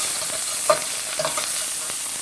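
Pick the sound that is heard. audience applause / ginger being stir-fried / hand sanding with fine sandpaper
ginger being stir-fried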